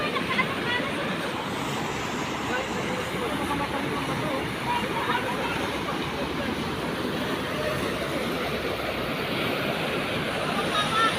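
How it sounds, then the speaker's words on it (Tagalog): Strong river current rushing below a bridge in Nueva Ecija, a dense, steady roar of turbulent water with constant broadband noise, with voices in the background. "Lakas ng agos oh."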